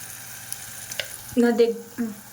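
Eggs seasoned with salt, turmeric and chili powder frying in a pan, a faint steady sizzle under a few stirring clinks and scrapes, with a voice speaking briefly near the end.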